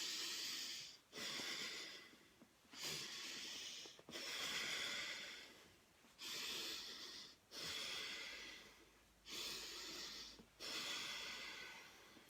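Slow deep belly breathing during a guided exercise, with long airy breaths that come and go in a steady rhythm, about seven breaths, close and soft with no voice over them.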